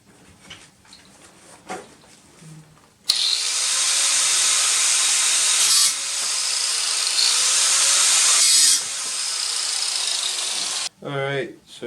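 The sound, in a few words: angle grinder cutting brass rod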